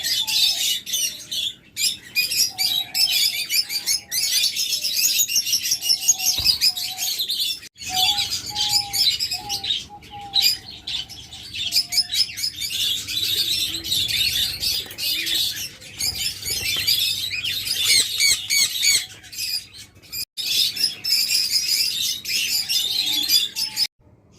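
Lovebirds, small pet birds kept for sale, chirp and squawk continuously in a busy, high-pitched chorus, close and loud, with dense overlapping calls and no talking.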